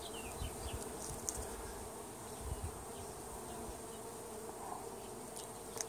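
Honey bees, mostly female workers, buzz steadily inside an opened hive during a spring inspection, a dense continuous drone close by with no talking.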